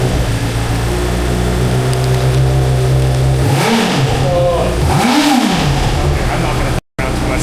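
A Honda CBR motorcycle engine revs loudly toward 17,000 rpm, its pitch sweeping up and falling back twice, with a steady low idle rumble throughout and speech mixed in.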